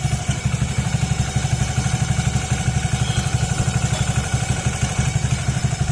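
A warmed-up motorcycle engine idles steadily and loudly with a rapid, even pulse, carrying an abnormal metallic clattering noise that persists throughout with no talking.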